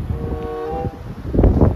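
Strong wind gusting outdoors in a small Alberta town after overnight snow and rain, a steady broadband rush that swells louder toward the end, with no one talking.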